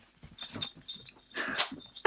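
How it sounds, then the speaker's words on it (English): A dog at play during a game of fetch whimpers, yips and pants in short, excited bursts, close and fairly loud, with no talking. "I need to play fetch with the dog right now"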